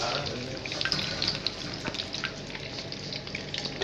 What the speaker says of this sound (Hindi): डीप फ्राई करेंगे हम इसको।